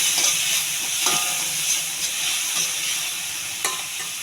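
Onion, cumin, mustard seeds and curry leaves frying in hot oil, a continuous loud sizzle with a few faint scrapes of a spoon, close up.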